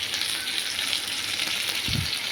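Tomatoes frying in spiced masala for a Bengali mutton curry, a steady bright sizzle and crackle close up, with a brief low clunk of stirring near the end.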